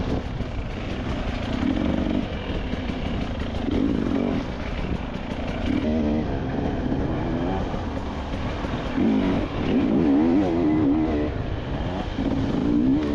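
Enduro motorcycles racing through a muddy, boggy winter course at the Claus Enduro Cup 2024, engines droning and revving steadily throughout, at moderate distance with a continuous mixed roar.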